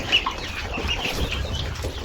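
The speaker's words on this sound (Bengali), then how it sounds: "এই সেটাপে আছে হচ্ছে ফার্মি মুরগি আর হচ্ছে টিপ মুরগি" Farm chickens, both broiler and local breeds, cluck softly at a poultry farm in Madaripur, with scattered short calls over a steady low background hum.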